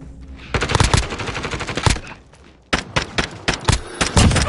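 Automatic gunfire in a Call of Duty Warzone match, with repeated loud bursts and sharp shots, a brief lull near the middle, then more rapid volleys close by.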